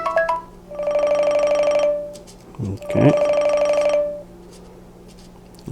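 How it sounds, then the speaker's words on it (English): A Mobvoi TicWatch Pro 3 Ultra smartwatch plays two bursts of a bright electronic ringtone from its small speaker, separated by a short gap with a brief spoken word. "Watch ringtone."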